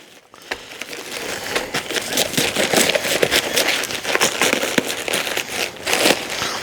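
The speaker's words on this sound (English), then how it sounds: "we're going to carve out what's called the core of the lettuce" A knife cutting out the core of a head of lettuce, crisp crunching and crackling leaves in dense irregular bursts, close and fairly loud, no talking.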